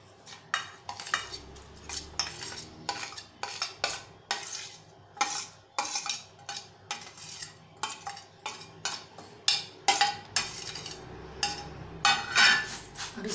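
A spoon clinks and scrapes against a bowl or packet as chopped ingredients are stirred into a quick chaat-style evening snack, in repeated uneven strokes, close and clear with no talking.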